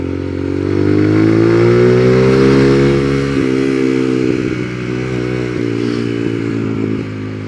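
Suzuki Gixxer 155 motorcycle fitted with an Akrapovic exhaust, ridden slowly and heard up close, with a loud steady engine note that climbs and falls as the rider shifts and eases off the throttle.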